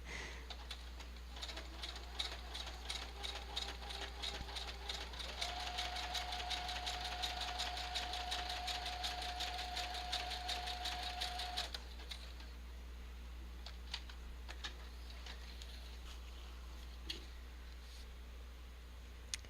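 A sewing machine stitching through paper tags, running in a fast, steady mechanical whir for about twelve seconds before stopping, then faint scattered handling clicks.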